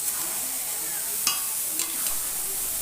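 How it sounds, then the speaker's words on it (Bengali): Chicken sautéing in a pan, a steady close frying sizzle with a few soft stirring scrapes, no voices. "এটাকে ভালো করে কষাবো, কষিয়ে কষা কষা করে বানাবো চিকেনটা আজকে।"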